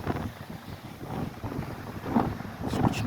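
Gusty wind buffets the microphone at the beach by Fishing Rock on a grey, blowy day, a continuous rumbling roar with surging gusts and faint surf underneath.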